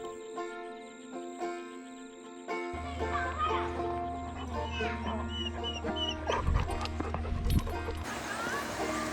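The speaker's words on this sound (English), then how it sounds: "The dogs are not being cooperative at all." Dogs on leads whine and yelp in short, uneven bursts under a busy backdrop of voices and children playing, with a continuous tonal hum running throughout and a louder scuffle near the end.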